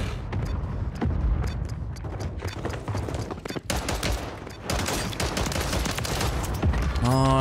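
Gunfire in a shooter video game, rapid crackling volleys of shots layered with booms, running dense and continuous at close range throughout.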